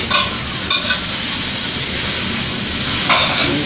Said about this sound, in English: So I'm going to saute this some more